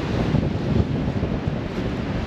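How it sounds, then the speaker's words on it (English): Steady wind buffets the microphone with a constant low rumble and rush in Skagway, Alaska, no voices present. "It is a bit windy, actually."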